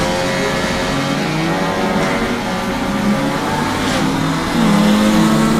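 A touring race car, set to 3000 RPM for a standing launch at the start of a Circuit of the Americas race, holds a loud, steady engine drone that swells near the end.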